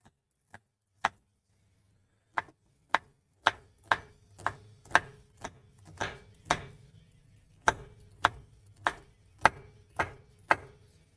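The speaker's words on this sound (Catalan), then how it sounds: "i la tallem així a juliana, que se'n diu" A knife chops onion and carrot into thin julienne strips on a cutting board, sharp knocks starting sparse and then settling into a steady, fairly quick rhythm, close and clear with no talking.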